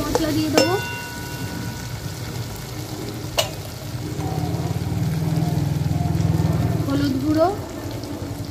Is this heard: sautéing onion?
yes